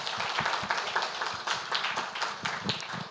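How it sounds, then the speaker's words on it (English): Audience applause for presenters at an international conference on contemporary Korean studies, a dense, steady patter of many hands clapping at moderate level throughout, fairly close and without talk. "can we give them one more round of applause?"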